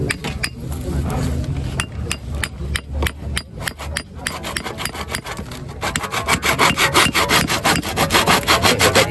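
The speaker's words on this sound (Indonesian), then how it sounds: "Ini gergaji." A hand saw cuts through wood outdoors in a farming setting, with loud, close back-and-forth strokes in a steady rhythm that quicken toward the end, plus a few knocks and clinks between strokes.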